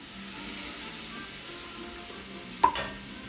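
El Pato sauce hits toasted rice in a pan, and a soft, steady sizzle swells into a sharp, brief hiss near the end, close by with no talking.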